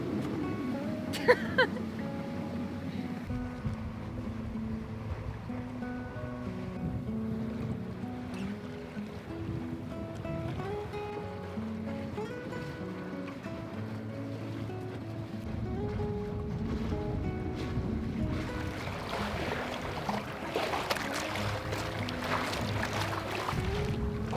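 A sailboat moves through water on a calm day along the Intracoastal Waterway in North Carolina, with a steady low rush of water and a faint hull hum, swelling into louder splashing and wind near the end.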